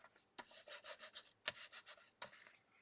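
A craft tag rubbed firmly against a textured mat, giving a series of rhythmic scraping strokes in bursts with short pauses, close and fairly quiet, with no voices.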